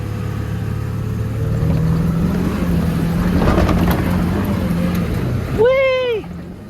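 A 2001 Ford F-250 Super Duty pickup's 7.3 Powerstroke diesel roars close by while accelerating, building in a deep rising rumble, then cuts off as a high turbo whistling whoosh sweeps upward at the end.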